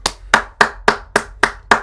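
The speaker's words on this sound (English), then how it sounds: "we're going to do a slow clap for 3 people" Seven sharp, evenly spaced hand claps in a slow, deliberate rhythm, each a crisp close smack with a short decay, alone without talk.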